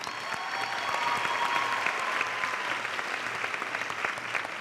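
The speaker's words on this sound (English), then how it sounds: "let's give them one more round of applause" A pageant audience at the Miss Arkansas Scholarship Pageant applauding contestants as they leave the stage, a full, even roar of clapping held steady throughout with no talking.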